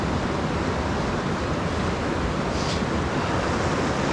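Rushing river water at Dartmouth Rapids in Ohiopyle's Great Gorge, a steady close broadband roar with no breaks and no voices.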